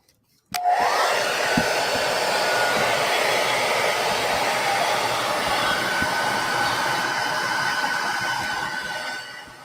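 A heat gun or hair dryer blows steadily to soften a guitar part during a modding job, a loud continuous whooshing hum that starts abruptly and holds nearly unchanged throughout, with no voices.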